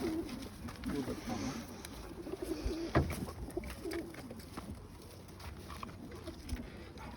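Tumbler pigeons coo softly and steadily nearby in a loft while someone talks over them, with a brief clatter partway through.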